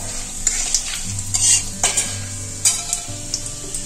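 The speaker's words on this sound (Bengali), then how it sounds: "দারচিনি, এলাচ, লবঙ্গ, গোলমরিচ, স্টার ফুল, এটা সাজিরে, এগুলো তেলের মধ্যে আমি দেব।" Whole cinnamon, cardamom, cloves, peppercorns and star anise sizzle in hot oil, a steady close crackle broken by a few light stirring scrapes of a spoon against the pan.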